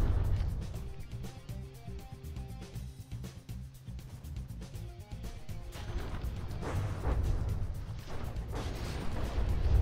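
Naval gun turrets fire shells in a From the Depths battleship tournament, producing a dense, continuous rumble of distant booms and impacts without speech.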